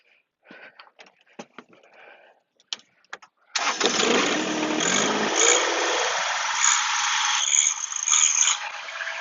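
A 48-inch post hole auger bit bores into the dirt with a loud, steady grinding roar and rattle that holds for several seconds after a few scattered thumps and clicks.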